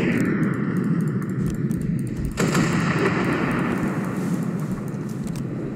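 Ship guns firing in Ship Crash Physics, with ocean liners used as battleships: a heavy, continuous roar of cannon fire with a sharp blast midway, loud and sustained throughout.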